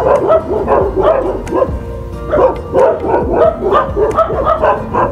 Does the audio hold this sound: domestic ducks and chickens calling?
no